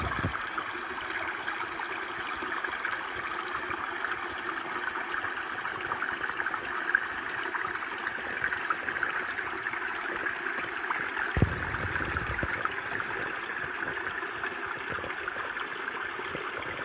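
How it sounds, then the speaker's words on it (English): A stream flows steadily along the Awausee Trail in a quiet forest, a soft continuous rush of water with no traffic, with a brief low thump near the end. "There's no more highway noise, just the water."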